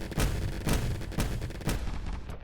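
Cannons in a turret defense video game fire in a steady rhythm, about four heavy booming shots roughly half a second apart, loud and close with a rumbling tail after each blast, and no talking.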